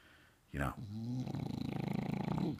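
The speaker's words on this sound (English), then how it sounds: "She's snoring." A dog snores steadily nearby, a fast rasping flutter that rises and falls with each breath after a brief sharp noise at the start.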